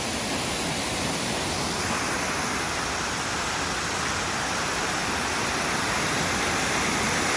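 The upper section of Sensation Gorge Falls gives a dense, continuous roar of rushing water, heard close from right on top of the falls, steady and broadband with no variation.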